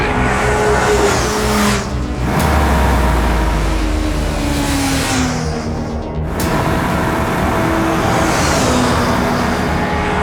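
A Suzuki Hayabusa motorcycle engine accelerates hard, its pitch sweeping upward over and over across repeated throttle runs, loud and close with a steady roar and no speech.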